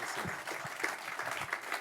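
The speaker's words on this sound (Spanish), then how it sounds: "¿Por qué le haces aplauso fuerte a Jesús?" An audience at a men's church conference claps steadily for a couple of seconds, a dense patter of hands with some voices mixed in underneath.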